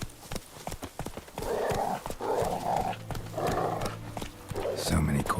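Hooves of the horse Roach galloping in The Witcher 3, a rhythmic clip-clop with other game sounds and a voice over the top.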